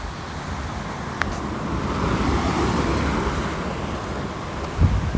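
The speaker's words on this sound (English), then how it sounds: "But yeah, you gotta watch out for traffic here." Road traffic passing on a roadside, a continuous broad rumbling wash of passing vehicles, swelling slightly in the middle, with a brief sharp knock early and a low thump near the end.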